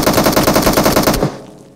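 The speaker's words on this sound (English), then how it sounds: "Now the grenade pin sound will get mixed with gunshots" Rapid automatic gunfire from a teammate in PUBG Mobile, a loud, close, continuous burst of evenly spaced shots for over a second, then a short fading echo.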